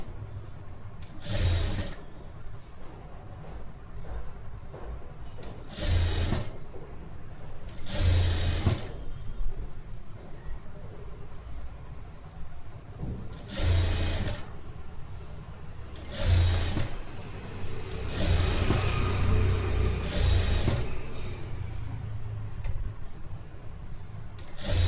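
An electric sewing machine stitches a shawl collar blouse with a half-inch seam, running in about seven loud buzzing bursts separated by short pauses, close up and without talk.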